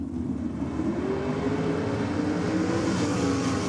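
Nitro drag racing cars sit idling in pre-stage at a drag strip, a steady loud low rumble holding evenly without revving.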